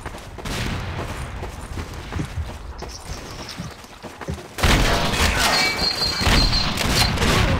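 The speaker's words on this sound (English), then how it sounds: "Grenades." Grenade blasts in the video game Rush Team: scattered gunfire and thuds give way to a sudden loud explosion midway, followed by sustained rumbling blast noise, with a voice talking at times.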